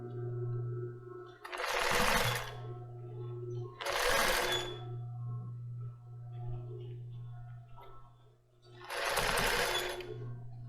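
A sewing machine stitches a lace bra along a short band over elastic, running in three loud buzzing bursts separated by quieter pauses with a steady low motor hum.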